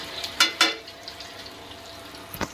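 Masala with coriander powder fries in a pan for Bihari-style matar paneer, a quiet low sizzle under a few sharp scraping clinks as a spoon stirs it.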